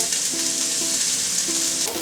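Chopped vegetables for jambalaya fry in a pan with a bright, steady sizzle and hiss close by, broken by a few short stirring scrapes, with nobody talking.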